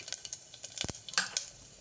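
Mustard seeds and a dried red chili spluttering in hot oil: quiet, irregular pops and crackles, with one louder burst partway through, close by and without any talking.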